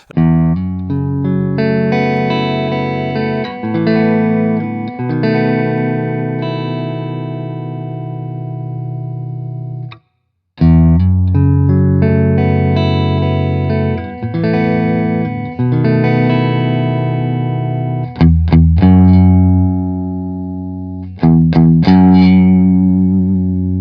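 Hughes & Kettner Ampman Classic amp played through a cab simulation while the resonance control is swept, sustained chords and notes whose low end thins out and then swells, with a brief cut near ten seconds and no talk.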